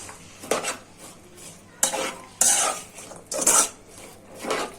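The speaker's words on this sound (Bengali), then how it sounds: "এখন পেঁয়াজটা ভাজা হয়ে যাক।" Onions and bay leaf fry in a pan while a spatula scrapes and stirs in several loud bursts, with a faint sizzle between them. Nobody speaks.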